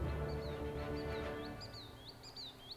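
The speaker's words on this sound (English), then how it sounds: "Oh, we have some birds." Bird calls in The Sims 4, several thin chirps and short rising whistles repeated over a faint, fading background, quiet and with no talking.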